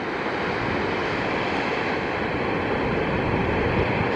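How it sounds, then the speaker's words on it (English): Steady rushing water noise from small cascading waterfalls in a canyon at Augrabies, South Africa, fills the whole stretch, a broad constant roar with no talking and no breaks. "there are lots of these little smaller waterfalls along here"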